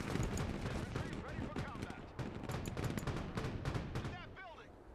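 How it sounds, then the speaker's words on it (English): Steady suppressive gunfire mixed with artillery booms fills a battle in the video game Broken Arrow. It is a loud, constant wash of overlapping shots and blasts that thins out toward the end. "Again, more suppressive fire."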